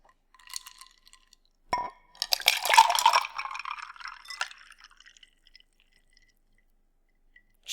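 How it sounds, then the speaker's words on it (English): A drink is poured into a glass, with a few clinks and drips and then a gurgling splash of liquid filling it over a couple of seconds, close and fairly quiet against a silent background. "I think I might just have to pour myself another glass."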